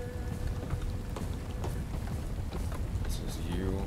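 Rain falls in the stealth section of the shooter game Bright Memory: Infinite, a dense steady patter and hiss scattered with small splashy ticks and footsteps, continuous throughout.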